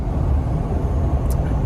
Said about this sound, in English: right now I'm driving a pickup truck